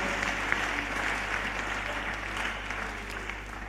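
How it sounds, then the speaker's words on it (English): Church congregation claps at a conference service: steady, dense applause from a large room, moderately loud, over a constant low electrical hum. "Give them a clap."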